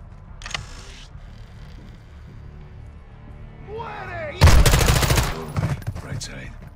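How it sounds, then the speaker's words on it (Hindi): Video game gunfire through gaming headphones: a quiet, sparse stretch with a faint early crack, then a loud burst of rapid shots near the end, trailing into scattered bangs. "ओ भाई, क्या गन साउंड्स आ रही है यार इस हेडफोन में भाई"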